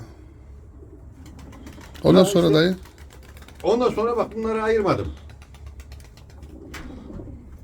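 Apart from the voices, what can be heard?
pigeons cooing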